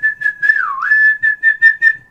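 A whistle sounds in the Sekiro video game, one long clear tone that dips in pitch midway, then several short repeated toots, loud and close.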